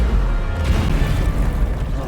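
Bombarda spell explosion in the video game Hogwarts Legacy, a loud, sustained booming blast with rumbling low end lasting the whole short moment.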